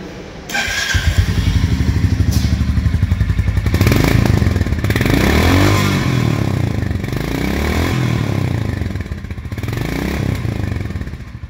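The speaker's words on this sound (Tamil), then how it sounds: "ஸோ இந்த வண்டியோட எக்ஸாஸ்ட் நோட் எப்படி இருக்குது அப்படிங்கிறத வந்துட்டு பார்த்துடலாம் வாங்க." A 2025 Royal Enfield Goan Classic 350 bobber motorcycle runs close by, its loud, steady single-cylinder exhaust thumping continuously with slight rises and dips in revs.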